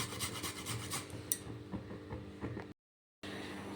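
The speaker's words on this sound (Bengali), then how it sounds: "1 টুকরো আদা নিয়েছি, এটা একটু গ্রেট করে দিয়ে দিচ্ছি।" Ginger root rasped against a kitchen grater while cooking a moong dal and sweet potato dish, giving steady scratchy strokes close by that break off near the end.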